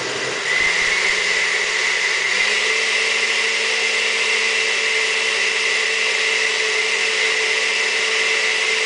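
A blender whirs continuously at a steady high pitch while blending a coconut, durian and banana shake, loud and close, with a brief speed shift early on and no talking.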